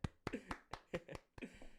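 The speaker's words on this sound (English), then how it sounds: "That deserves a round of applause." A few people clap on a podcast recording, about half a dozen loose, uneven claps close to the microphone and quiet overall, without speech.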